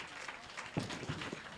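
Audience applause at a 2004 Biddenden Bandit grasstrack racing presentation, a modest, fairly faint patter of clapping from a small outdoor crowd.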